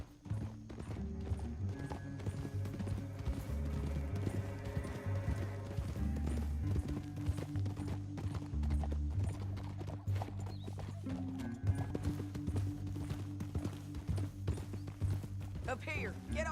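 Horses' hooves clip-clop steadily at a riding pace in a Western video game, continuous and close, with music and voices over the top.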